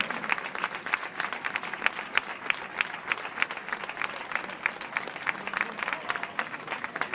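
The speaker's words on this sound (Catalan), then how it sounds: "Un fort aplaudiment." An audience applauds steadily for the winning sardana dance group, Violetes del Bosc of Barcelona, at the Catalan sardana group championship final in Balaguer, the clapping dense and even throughout.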